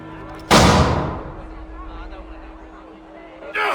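Cannon artillery in Assassin's Creed III, one loud booming blast that rolls off into a long fading rumble, then a second blast starting at the end, with voices in the background.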